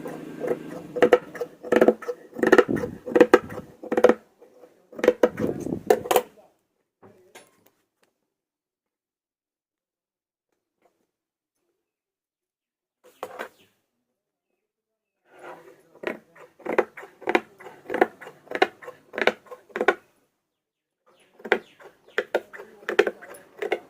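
Scissors snip through kurta fabric along a marked shape in a run of quick, close, dry cuts. A long silent gap follows, then another steady series of snips.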